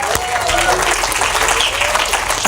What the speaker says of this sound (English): Let's give Stormy a round of applause.